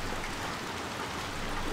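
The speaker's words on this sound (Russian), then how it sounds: "Идет дождь." Steady rain falls in Little Nightmares 2, a constant soft hiss of drops with no breaks, moderately quiet and alone without voices.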